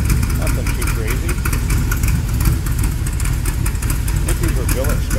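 A 1923 Ford Model T T-Bucket engine idles steadily, a close, even mechanical rumble that holds throughout with a busy ticking texture on top.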